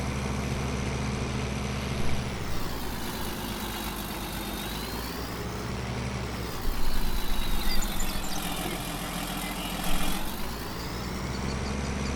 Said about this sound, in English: Man, this tractor goes very, very, very slow backing up.